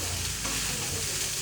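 Egg fried rice with two spoons of Schezwan masala being stirred in a pan, a steady close scraping and soft sizzle running without break, no voices.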